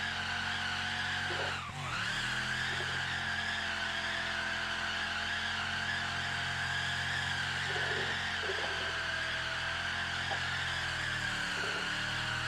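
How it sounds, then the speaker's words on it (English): A sustained tire-squealing burnout in fourth gear from a boosted car in BeamNG Drive, with the engine screaming at a steady high pitch for the whole stretch and a brief dip near the start, loud and continuous with no talking. "See if it'll hit a fourth gear burnout."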